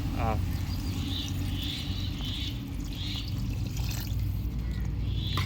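Water poured into a pot of mutton curry with masala, giving a steady low pouring rumble under a continuous kitchen background, with a person talking over it.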